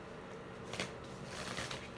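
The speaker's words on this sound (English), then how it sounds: "I've decided that I'm just going to shuffle" Tarot cards being shuffled by hand, a steady papery riffle and slide running throughout at close range with a few louder snaps near the middle and end.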